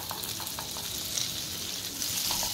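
Butter heating and sizzling in a pan as the start of a white sauce for chicken pasta, a close, steady frying hiss with a few faint clicks, no talking.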